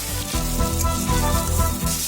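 Tomato frying in a pan for a vegetarian chhanar dalna, a short close burst of steady sizzle with faint utensil knocks and no voices.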